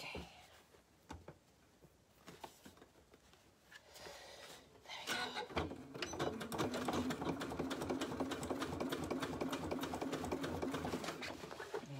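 A sewing machine stitches waxed canvas for a bag, starting after a few seconds of rustling and small clicks and then running steadily and fairly close for the remaining seven seconds.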